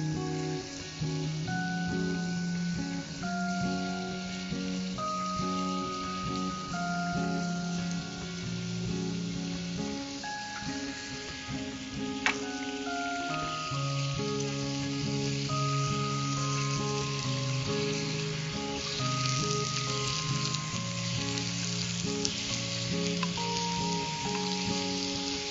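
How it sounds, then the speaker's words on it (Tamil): Whole eggplants dropped into hot oil for eggplant masala fry with a continuous, even sizzle and fine crackling throughout, close up, while a melodic background tune plays along and no one speaks. "எண்ணெய் நல்லா சூடாயிடுச்சு. இதுல இந்த கத்திரிக்காய நம்ம அப்படியே சேர்த்துக்கலாம் முழுசா."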